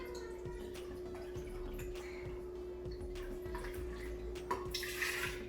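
Vegetable broth is poured into an Instant Pot Ace blender jar with a steady liquid trickle and splash, close up over a constant electrical hum, ending with a brighter rush.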